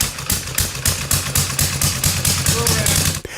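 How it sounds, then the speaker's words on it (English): Harley-Davidson V-twin engine idling with its uneven, loping potato-potato rhythm, a steady run of close, loud low thumps. "That distinctive potato sound wasn't just an engine, it was the heartbeat of America."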